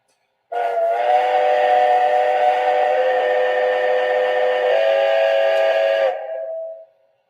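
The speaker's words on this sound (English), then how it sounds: "Now I'll go through the whistles next." A loud, sustained steam locomotive whistle from Strasburg No. 90 blows for about six seconds with a rich chord-like tone, then tapers off and stops.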